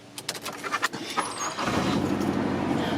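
A car starts after a short jingle of keys and rattling handling, then settles into a steady engine rumble that fills the cabin as it sets off home from a forest outing.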